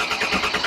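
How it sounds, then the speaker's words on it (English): A Shelby Cobra replica's engine turns over and catches, a dense rumbling roar filling the brief moment, loud and close. "let's start the car"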